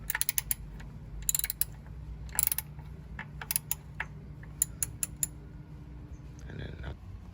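Ratchet turning a 14mm socket to unscrew starter bolts on a 1985 Nissan 300ZX (Z31), quick bursts of close metallic clicking with short pauses, then a faint clunk at the end.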